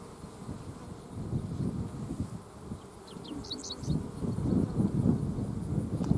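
Honeybees buzz around an open hive frame, a low continuous hum that swells and fades as insects move close, with a few faint bird chirps above it.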